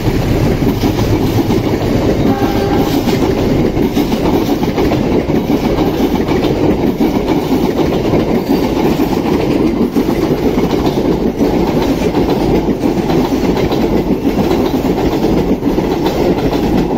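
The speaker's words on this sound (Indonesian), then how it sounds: "Kereta api Argo Lawu 7C dari Stasiun Solo Balapan tujuan akhir Stasiun Gambir." The Argo Lawu passenger train from Solo Balapan to Gambir rolls past close by with a loud, continuous rumble and rhythmic wheel clatter over the rails that stays strong throughout and has no voices over it.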